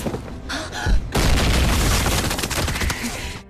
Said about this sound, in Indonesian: berondongan peluru dan sebuah bom mengarah kepada Tiger